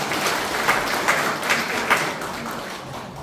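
Steady applause from an audience at an award ceremony for a community social security council in Pocheon, with a dense broadband wash of clapping and a few slightly louder swells.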